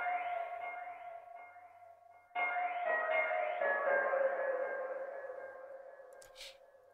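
A soft ambient synth pad with dotted tape-delay echoes trailing each phrase, swelling and fading in a spacious, stereo delayed wash with no voices.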